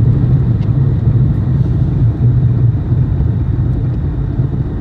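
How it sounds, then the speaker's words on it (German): Car accelerating on a snowy road during a 0-60 km/h test, a steady low engine drone and tyre rumble from inside the cabin, constant and loud with no voices. "Weil du musst jetzt gleich einmal auf 60 beschleunigen, dann fahren wir 60 und dann bremst du runter."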